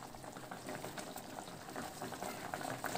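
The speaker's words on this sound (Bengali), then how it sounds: "তরকারিটা আমরা আরেকটু কিছুক্ষণ ফুটিয়ে নেব।" Ridge gourd and aila fish curry simmering in a pot with a little added water, giving a quiet, continuous bubbling boil close by, without any talking.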